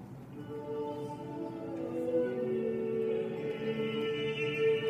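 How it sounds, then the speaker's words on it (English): A medieval rondeau by Machaut, vocal and instrumental, plays steadily, sustained tones layering into a continuous, moderately loud performance without pauses. "This is a rondeau by Machaut"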